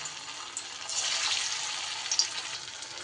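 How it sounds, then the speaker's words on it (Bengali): Soybean koftas fry in very hot oil, a steady bright sizzle and crackle that swells midway with small spits and pops, close and moderately quiet with no talking. "এবার আমি এক এক করে কোপ্তাগুলো ভেজে নেব।"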